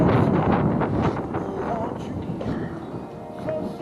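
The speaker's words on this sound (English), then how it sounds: "The wind is, wow," Strong, relentless wind sweeps across a canal on a windy fishing day at White Acres, making a continuous, loud broadband rumble and buffeting that holds steady throughout.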